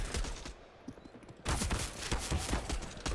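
Gunfire in CS:GO during a professional match at IEM Katowice 2022, heard as a dense crackle of rapid shots that goes quiet briefly and then bursts back louder and sustained.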